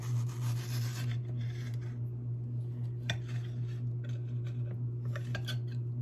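A knife scrapes fruit flesh off a long pit, giving soft intermittent scraping and clicking over a steady low hum, close by, with no talking.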